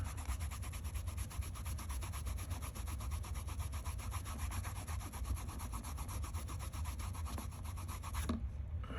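Steady scrubbing and rubbing on a Case fixed blade knife while cleaning gunk off it with soap, a continuous close, even friction that runs throughout and stops abruptly near the end.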